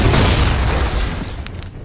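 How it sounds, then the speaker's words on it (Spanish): A loud, sustained cannon-like boom fills the whole moment, a heavy low rumble with crackling bursts layered on top, during a Fiestaball shootout. "¡Cañonazo! ¡Cañonazo! ¡Cañonazo!"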